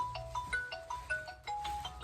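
A phone ringtone for an incoming call chimes in a quick, repeating pattern of bright electronic tones, close and fairly clear, with a low background hum and no talking.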